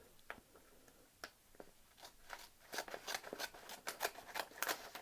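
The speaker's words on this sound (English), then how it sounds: "100-year-old scissors." Small 1909 Victorinox Swiss Army knife scissors snip paper, sparse clicks at first and then a quick run of crisp close cuts, quiet with no talking.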